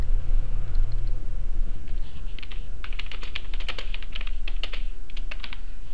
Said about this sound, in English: Now I am typing on my friend's messenger.